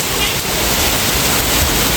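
A heavy monsoon downpour pours onto flooded roads, a dense, steady roar of rain hiss that stays loud and unbroken throughout.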